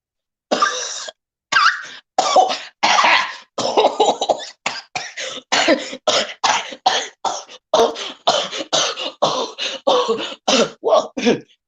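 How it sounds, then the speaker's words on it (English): A person coughs repeatedly in close, loud bursts, a long run of harsh hacking coughs and throat clearing separated by short gaps, with no talk in between. "Oh, that's me coughing."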